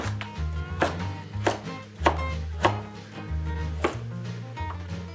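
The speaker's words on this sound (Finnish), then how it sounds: "ruvetaan pilkkomaan. Ja aloitetaan porkkanasta." Carrots are chopped into cubes with a knife on a board: steady, loud rhythmic knocks at about one per second, close up, with no talk.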